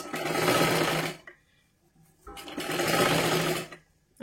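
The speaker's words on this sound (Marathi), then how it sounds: "हे पहा आता ह्याच्यावरती डबल एक शिलाई मारून घ्यायची आहे." A sewing machine runs in two long bursts of rapid, loud stitching on a blouse, separated by a short pause, with the whirring starting up again at the end.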